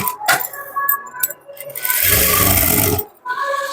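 A sewing machine stitching a blouse runs in one steady, loud, close burst of about a second, with handling clicks and fabric rustle before and after.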